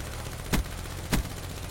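Two separate gunshots in a shooter video game, spaced about half a second apart, each a short, moderately loud crack over a steady low background hum.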